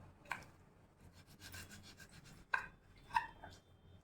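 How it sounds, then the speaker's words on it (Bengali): Knife slicing okra lengthwise into four strips on a board, with soft rubbing and scraping between three sharp cutting taps, close and fairly quiet. "এভাবে ঢ্যাঁড়সগুলো কেটে নিতে হবে"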